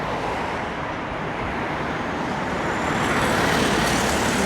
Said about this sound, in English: all this traffic from the island is heading straight for me